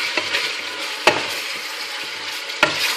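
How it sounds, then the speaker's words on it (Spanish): Chopped onion sizzles steadily in a hot pan while being stirred, a continuous close frying hiss broken by a few sharp scrapes and knocks of the utensil against the pan. "Ahora añadimos la cebolla, he cortado picadita. Y seguimos moviendo."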